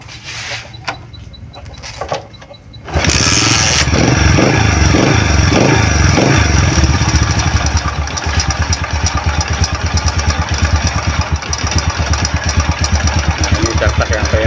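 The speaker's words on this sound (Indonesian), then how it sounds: "Dan sekarang kita engkol lagi" A Honda Astrea motorcycle is kicked over a few times with scraping clunks, then fires and settles into a loud, rapid, steady idle close by, with someone talking.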